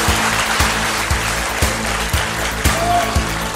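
Seminar audience clapping to welcome a company chairman at a Korean Atomy business seminar, a broad even wash of applause over a low hum with a faint voice underneath.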